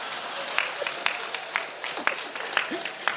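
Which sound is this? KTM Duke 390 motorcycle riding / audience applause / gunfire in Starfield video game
audience applause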